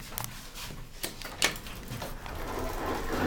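A Kiesling service elevator at East 56th Street in Midtown Manhattan runs with a few sharp mechanical clicks and knocks, then a steady motor hum that grows slightly louder, close by with no talk.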